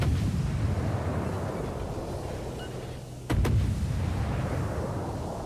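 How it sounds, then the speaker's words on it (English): Warship guns fire in a naval video game, a sharp booming report cutting through a continuous low engine rumble, followed by a second quick blast, loud and close. "I open up with my guns."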